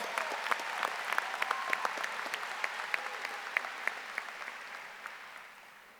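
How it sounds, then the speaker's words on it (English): An audience claps steadily in sustained applause at a high school graduation ceremony, tapering off slightly toward the end. "Let's give them both a round of applause."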